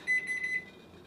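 A kitchen timer beeps in a quick run of short, high electronic pulses, then the sound stops and only quiet background remains.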